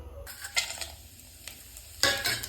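Whole fennel, cinnamon, stone flower, cardamom and cloves crackle and sizzle in hot oil, with bursts of stirring at the start and a louder surge of frying near the end, no voices.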